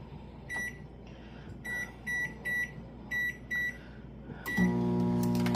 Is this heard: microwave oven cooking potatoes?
yes